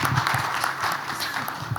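A conference audience claps together at the close of a hospitality marketing session, a dense, steady patter of applause running throughout.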